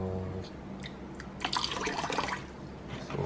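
Vinegar poured over raw red snapper in a Jamaican kitchen, a brief soft trickle and splash with a few light drips, fairly quiet and close.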